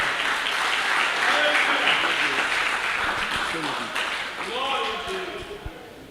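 A church congregation applauds steadily for several seconds, with voices talking and calling out over the clapping.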